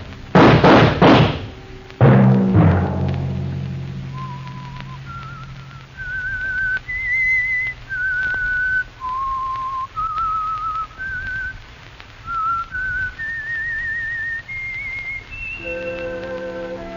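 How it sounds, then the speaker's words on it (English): The whistled signal theme of The Whistler radio drama, a lone clear whistled melody of sustained rising and falling notes, opening after two sharp knocks or slams and ending as soft instrumental music enters. "Let that whistle be your signal for the Whistler"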